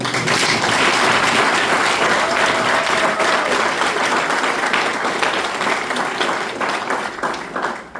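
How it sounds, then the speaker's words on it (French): An audience at a foundation ceremony breaks into loud, sustained applause, many people clapping densely and evenly for several seconds before it thins and tapers off at the close. "Vous pouvez applaudir ça."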